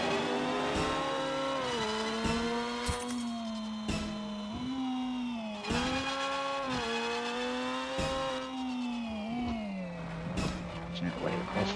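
A race car with tarmac tyres and heavy downforce drives in the Screw Drivers game, engine holding a steady droning tone that rises and dips with gear changes, under continuous commentary speech.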